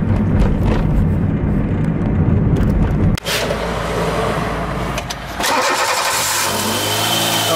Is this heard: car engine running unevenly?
yes